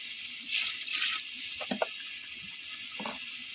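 Water poured into a cooking pot on a wood-fired stove outdoors by a canal bank while making tomato rice, a soft steady hiss and splash with a few brief louder splashes, fairly quiet.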